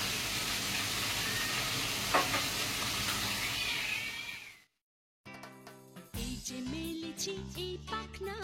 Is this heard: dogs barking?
no